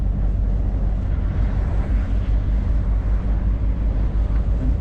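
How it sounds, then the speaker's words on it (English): Strong wind buffets a car crossing an exposed UK motorway as it banks into a bend, a dense continuous low roar with rumbling gusts and no break. "It's banking right and the wind is blowing from that side"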